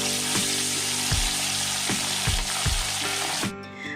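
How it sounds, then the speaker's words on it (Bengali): Pomfret fish frying in hot oil in a wok, a steady close sizzle with periodic louder bursts and scrapes as pieces are moved, easing off near the end. "এরপর কড়াইয়ে তেল গরম করে মাছগুলো ভেজে নেব।"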